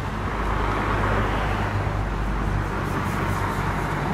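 A Porsche Cayenne Turbo S diesel drives by on a street in Alderley Edge, a steady, loud low rumble of engine and road noise lasting throughout with no distinct peak.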